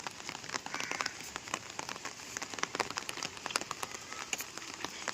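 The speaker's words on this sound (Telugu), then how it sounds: "జోరుగా కొడుతుంది వర్షం" Heavy rain pours steadily onto a flooded road, a dense continuous hiss with countless close patter drops and splashes, no voices.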